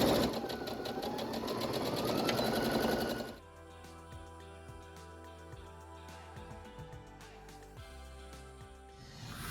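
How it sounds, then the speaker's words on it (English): Sewing machine stitching quilt blocks without pins, a loud, fast continuous whir close by that stops abruptly partway through, followed by quieter clicks and light handling noises. "So I am going to stitch all of these in the same manner."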